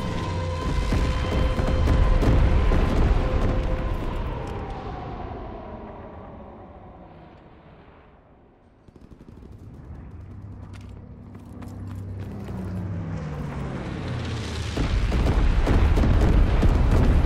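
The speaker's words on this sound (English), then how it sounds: "Low altitude bombing run inbound." In Call of Duty: WWII, a low-altitude bombing run brings heavy booming explosions that roll and fade. Falling whines from passing aircraft cross a lull in the middle, then a second loud wave of rumbling blasts follows.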